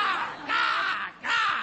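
A performer's voice imitates a crow, giving three drawn-out, nasal caws in quick succession, loud and close with no other sounds.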